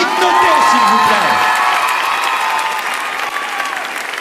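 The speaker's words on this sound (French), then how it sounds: "on t'applaudit très très fort" Loud, sustained audience applause with cheering at a French radio event, a dense wash of clapping from a large crowd that slowly fades slightly toward the end.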